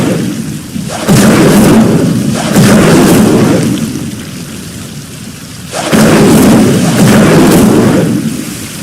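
The Incendio fire spell is cast in Hogwarts Legacy, making loud whooshing, roaring bursts that swell and fade twice, with a rumbling low end between them.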